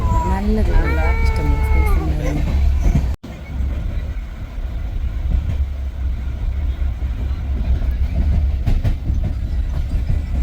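A train rumbles and clatters steadily along the tracks; a voice talks briefly over the noise at the start.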